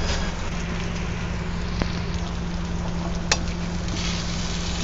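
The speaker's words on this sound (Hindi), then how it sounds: "अब 3-4 मिनट धीरे आंच पर मैं इसको पकाऊंगी, ताकि हमारे प्याज सब चीज़ें गल जाएं" Onions, tomatoes and green chillies simmer covered over low heat, giving a steady soft sizzle and bubbling hiss throughout with a steady low hum underneath and a couple of faint clicks; no one speaks.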